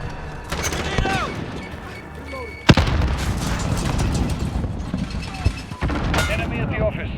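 A grenade blast in Call of Duty: Modern Warfare booms sharply amid rattling gunfire and other in-game combat noise, with several loud impacts and a voice speaking over the action.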